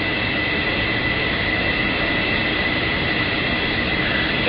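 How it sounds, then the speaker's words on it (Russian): The second engine of a MiG-29 starting up in the LockOn flight simulator game produces a loud, steady jet roar and whine that holds evenly without breaks and has no voices over it. "Пока продолжается запуск второго двигателя"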